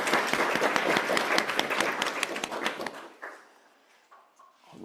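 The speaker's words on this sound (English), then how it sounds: "lots of applause from the in-person folks" An in-person audience at an astronomy coding event claps, a crowd of hands for about three seconds that then fades to faint room noise and a few scattered sounds.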